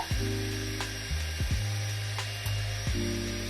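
A Grunhelm GHA-830 rotating hot air brush runs on its second, hotter speed with a steady, close electric whine whose pitch dips briefly at regular intervals.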